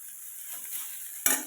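Garlic cloves, whole peanuts and coriander roasting in a pan for green tomato chutney, a faint steady sizzle with a brief sharp scrape of stirring near the end.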